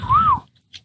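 A single short whistle from a person calling a companion, one rising-then-falling tone lasting about a quarter second, close and clear, followed by quiet and a faint tick.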